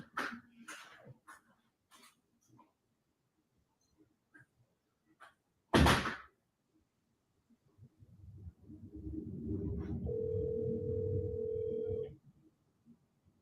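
A telephone call ringing out unanswered, a faint repeating ring tone heard quietly after a sharp knock and scattered sounds, with some brief talking early on.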